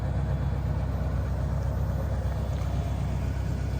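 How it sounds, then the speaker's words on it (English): A warmed-up Ford Crown Victoria Police Interceptor engine idles steadily, a low, even rumble with a smooth pulsing beat that holds unchanged throughout. "We can see how this one started to warm up. The idle smoothed out a little bit."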